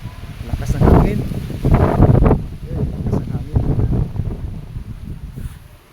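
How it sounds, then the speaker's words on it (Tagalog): Strong wind buffets the microphone outdoors at a hillside school, roaring in low, heavy gusts that swell and fade. "Lakas ng hangin."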